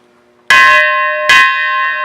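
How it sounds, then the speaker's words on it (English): A ship's bell aboard the SS Lane Victory is struck twice with a hammer, each loud metallic clang ringing on with a long sustained tone, the second strike following under a second later, with no talk. "we had a bell here. You ring."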